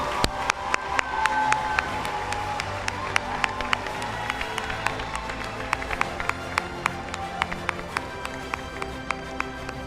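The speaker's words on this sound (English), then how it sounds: "join me in giving a rousing round of applause for the gentlemen of 5M" An audience at a boys' high school valedictory service gives a rousing round of applause and cheering, with dense crowd clapping and scattered sharp claps standing out over a continuous roar, voices mixed in.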